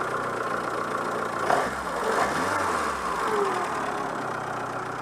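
A Peugeot 205 GL with its TU petrol engine idling, a steady close mechanical hum and rumble running unbroken throughout with no voices.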